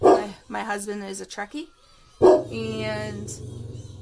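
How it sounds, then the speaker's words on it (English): A dog barks and yips nearby in short excited bursts, partly under a person talking. "That's my dog."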